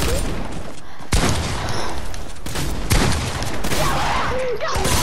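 Shotgun blasts in the Fortnite video game, several loud broadband bursts at irregular intervals over dense game noise, with a voice briefly heard.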